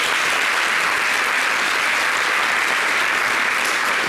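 A studio audience at an Ivorian TV talk show breaks into loud, dense, uniform applause for a columnist being introduced, continuous and close with no pauses.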